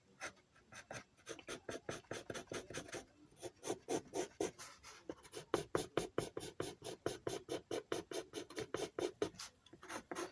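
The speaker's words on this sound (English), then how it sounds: "So I'm just gonna draw some hair on the angel right here." Pencil strokes on paper, sketching hair on an angel silhouette drawing: quick, rhythmic scratchy rasps repeating steadily and close, soft and alone with no voices.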